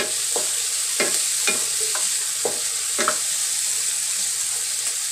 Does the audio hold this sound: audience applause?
no